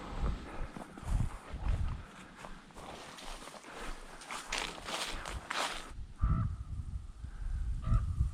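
Ravens on a wooded ridge give several harsh caws at a distance, mixed with footsteps crunching through brush on an elk hunt.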